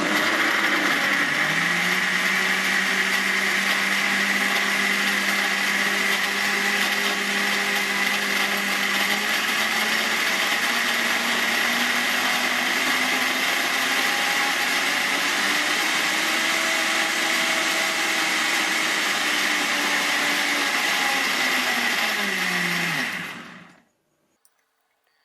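A Hauswirt 1200W blender with eight blades and a 1.45 L jar blends orange, banana and kiwi into a smoothie, running as a loud, steady whir whose pitch shifts slightly as the fruit thins, then cuts off abruptly near the end.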